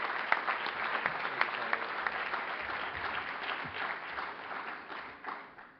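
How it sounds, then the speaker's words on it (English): Audience at a mayors and business leaders breakfast applauding a U.S. senator, a warm, steady wave of clapping heard from across the room that fades toward the end. "Let's give him a big round of applause"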